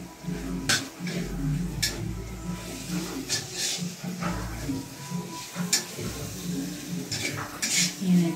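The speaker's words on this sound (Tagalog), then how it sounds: "Sinunod na yung sili at yung" Chili and white onion fry in a pan for tuna sisig, with sharp metal utensil clinks and scraping stirs breaking over a soft sizzle, moderately close and without talk.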